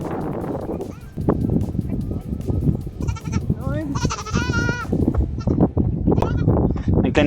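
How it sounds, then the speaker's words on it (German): A frightened baby goat separated from its herd in Mongolia gives several high, wavering bleats, close by, amid people talking and footsteps. "Wir haben ein kleines Zieglein gefunden und es hat Angst vor uns."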